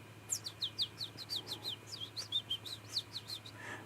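A person mimics birdsong with rapid, whistled chirps, a dozen or more short notes in a lively, slightly uneven rhythm, close to the microphone over a low background hum.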